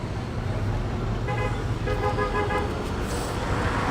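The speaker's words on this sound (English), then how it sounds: "it looks like we've got a truck coming out" A truck pulls out past a roadside vigil, its engine rumbling steadily amid busy traffic noise, with a short horn toot partway through and no talk over it.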